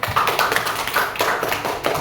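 Elementary school pupils in a social studies class clap together, a dense, steady patter of many small hands that fills the whole short burst at close range.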